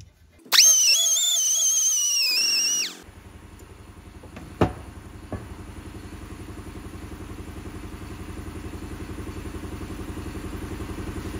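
A power tool whirs loudly for about two seconds while resurfacing the pads on a Ford brake backing plate, then stops, followed by a couple of sharp metallic knocks and a low steady hum that continues.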